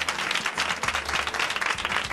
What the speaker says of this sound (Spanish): ¿Le podemos dar un aplauso